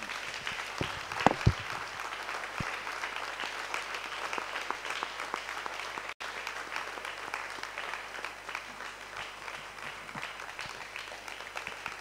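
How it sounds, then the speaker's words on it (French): A church congregation applauds in a sustained, dense wash of clapping with a few louder nearby claps early on, continuing steadily for several seconds with little talk. "Acclame Jésus."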